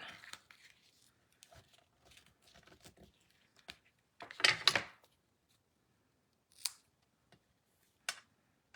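Scissors cutting stiff inked craft material for a card-kit project, giving a few short close snips scattered between quiet pauses and soft handling noises.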